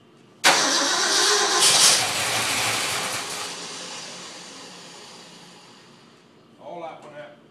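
A 1966 Ford F100 with a 352 V8 cranks briefly and fires into a loud roar, then settles and fades toward a lower idle while voices talk near the end.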